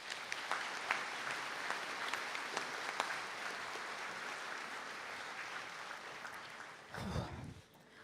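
Steady audience applause in a hall at a college conferring ceremony, a continuous wash of many hands clapping that holds for several seconds, then a brief low thump before it tails off.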